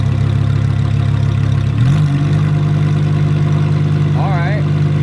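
A Lamborghini Huracán Performante idles in sport mode with a deep, loud steady rumble that steps up in pitch partway through and then holds at a higher, smoother idle. A voice talks briefly over it.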